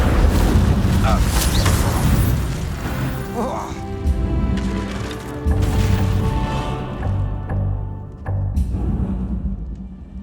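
A Confringo blasting spell explodes in Hogwarts Legacy amid dense booming combat effects and crashes, with a voice speaking over the din and a layer of game music.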